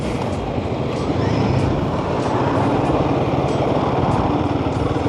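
A Royal Enfield Guerrilla motorcycle engine drones steadily while riding, loud and close, with continuous wind rush over the motor's buzzing note.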